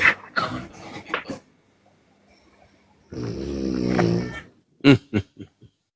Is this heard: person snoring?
yes